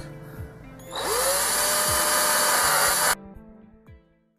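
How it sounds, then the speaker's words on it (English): A power drill bores a 13mm hole, its loud steady whine running about two seconds with a rising pitch at the start, then cutting off abruptly, followed by faint handling clatter. "Just drill through."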